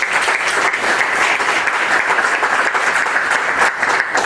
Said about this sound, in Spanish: Le presentamos al doctor Fernando Delgado, recibámoslos con fuertes aplausos